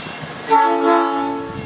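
A shuttle train on the Monon Corridor sounds a sustained, tonal horn blast partway through, following quieter rumble. The horn rings out loud and near for over a second.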